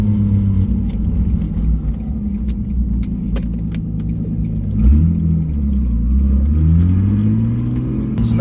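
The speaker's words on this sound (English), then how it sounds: "Pull out on the main road right now." A Nissan 350Z with a newly replaced clutch master and slave cylinder pulls out onto a main road, its engine rumbling low and loud, then revving up through a rising pitch sweep midway before settling into a steady drone.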